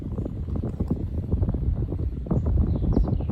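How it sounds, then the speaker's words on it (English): Strong outdoor wind buffets a microphone in uneven gusts, a steady low rumble that swells louder toward the end, with no voices. "I'm trying to wait for the wind so you don't hear that when I'm reading the story"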